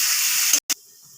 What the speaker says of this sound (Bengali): সয়াবিনটা ভেজে নিচ্ছি